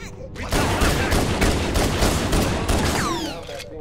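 Rapid, dense gunfire rattles continuously in the Halo CE: Anniversary campaign on The Pillar of Autumn, loud and sustained with whizzing projectile sweeps toward the end.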